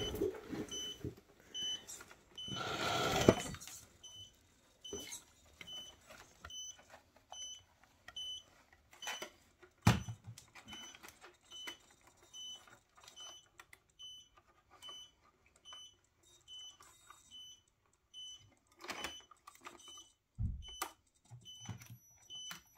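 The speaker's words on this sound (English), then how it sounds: "Well, it's making a crazy beep." An old RC motor under test gives off faint, regular electronic beeps repeating in a steady pattern, with scattered clicks and handling knocks, including a louder rustle early on; no talk.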